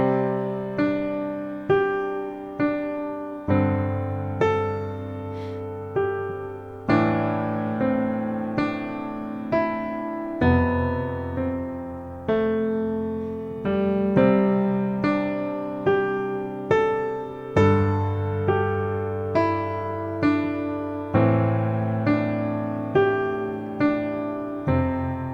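Solo piano improvises on the white keys in C, a steady sequence of struck notes and chords that sustain and decay in phrases, close and clear with no talking.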